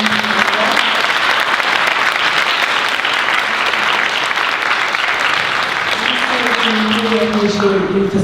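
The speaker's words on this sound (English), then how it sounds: "Please join with me in applauding our" Audience applause at an education event on serving undocumented students, a dense, steady roar of clapping that holds for the whole stretch, with some voices and cheers rising near the end.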